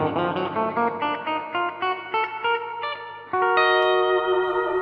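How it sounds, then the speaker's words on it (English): A guitar plays a run of notes drenched in springy reverb, each pluck trailing a metallic, splashy wash before a final sustained chord rings out. "this is just that kind of spring reverb that I like, because it's not too fat"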